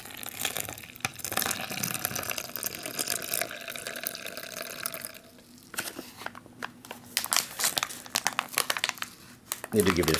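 Cold water pours steadily into a crinkly plastic MRE drink pouch holding chocolate protein powder, then stops and gives way to rustling and handling noises at close range.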